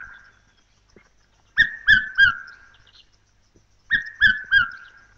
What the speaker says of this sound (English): One of the commonest migrant birds of woodland and forest, the red-chested cuckoo